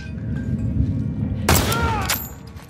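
Gunfire from a DL-55 style gun in the video game Apex Legends, a loud burst of shots over a steady low rumble of game noise, lasting about half a second.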